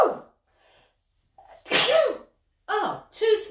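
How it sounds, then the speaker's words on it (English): Two sharp human sneezes, the first after a brief inhale, ring out close and loud in an indoor room, followed by a short spoken remark. "Oh, 2 sneezes."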